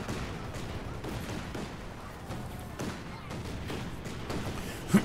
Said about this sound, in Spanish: Yo lanzo granadas.